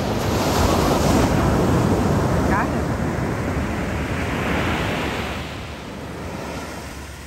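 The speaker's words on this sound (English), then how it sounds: "Watch this one coming in on an angle." Ocean waves breaking on a beach, a loud continuous surf roar with wind buffeting the microphone, swelling and then easing as a wave rolls in at an angle; someone speaks briefly over it.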